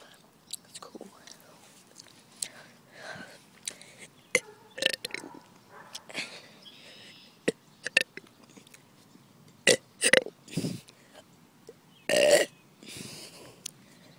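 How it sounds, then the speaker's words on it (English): A person burps repeatedly, several short and a few longer, louder belches spaced across the stretch, with chewing-like clicks and small mouth noises between them, recorded close. "I can only like breathe it in once and then burp."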